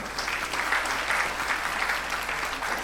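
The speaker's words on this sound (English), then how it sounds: "Let's give him a round of applause again" A steady wash of clapping fills the hall as attendees at the Nigerian Council of Registered Insurance Brokers 2022 mid-year workshop applaud a speaker. Even, continuous applause with no pauses and no voices above it.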